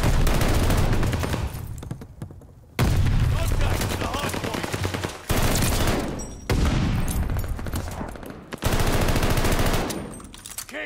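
Sustained bursts of automatic gunfire at a hardpoint in the video game Call of Duty: Vanguard, loud and dense, in several long volleys with brief gaps, some voice beneath the din.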